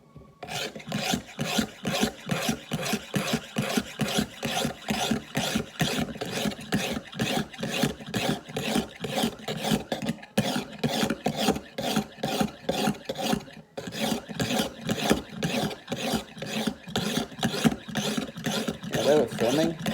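A kitchen knife drawn across a sharpening stone makes rapid, regular rasping strokes, close and steady throughout, with a couple of brief pauses in the rhythm.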